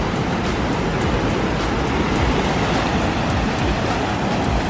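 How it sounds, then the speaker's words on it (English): Steady, dense rush of ocean surf rolling in along a Hawaiian shore, a continuous wash of breaking waves at moderate loudness with no pauses and no voices. "Those waves are coming in."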